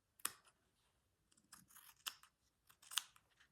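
Scissors snip through fabric for a stitchery piece in a quiet room, several close crisp cuts coming in uneven bursts with short pauses between them.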